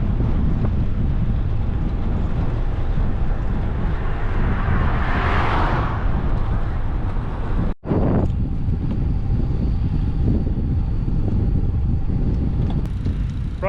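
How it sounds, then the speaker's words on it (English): Wind rushes steadily across the microphone as a cyclist rides into a headwind through a park at Hartwell Dam, a broad, continuous roar with one brief dropout midway and no talking. "I'm riding into a headwind, which will slow me down"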